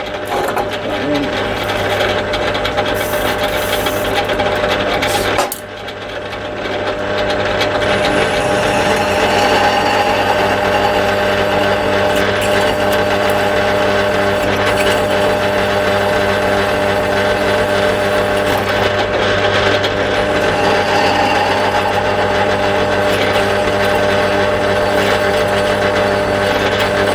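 A milling machine runs steadily while cutting a prototype primary sheave tool for a 450cc machine, a loud constant whine and hum that drops briefly, then resumes and carries on evenly.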